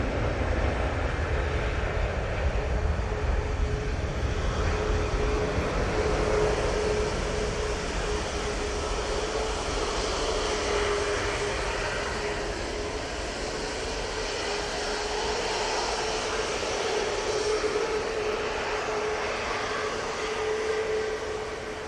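Boeing 737-800 jet engines at Manchester Airport, a moderate steady roar with a faint tonal whine, holding fairly even throughout the long stretch and heard alone without talk.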